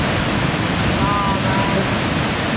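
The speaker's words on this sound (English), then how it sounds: "That's the waterfall we came here to see." The Thoseghar waterfall pours as a steady, broad roar of falling water, with wind buffeting the microphone and faint voices in the background.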